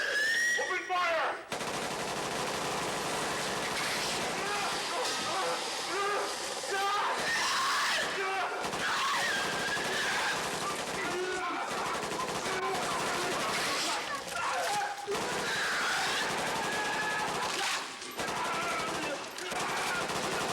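Machine gun fire in a video game, loud, dense and almost unbroken, with rapid bursts running for about twenty seconds alongside other game noise and voices.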